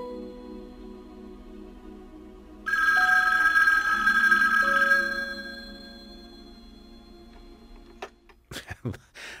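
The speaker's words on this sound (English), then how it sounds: "then the phone rings" An old-fashioned telephone bell rings loudly in a scene from the film Chinatown, a sustained metallic ring lasting a couple of seconds over a quiet room, then fading into low background sounds and a few soft knocks.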